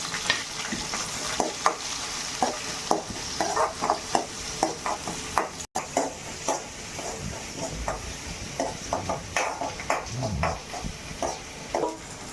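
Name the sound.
onions and garlic sautéing in a pan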